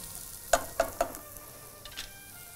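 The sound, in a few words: palmyra tuber sautéing in a pan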